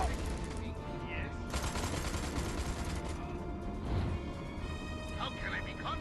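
Gunfire in the video game Destroy All Humans 2, dense rapid shots rattling continuously over a loud game soundscape, with voices talking over the shooting.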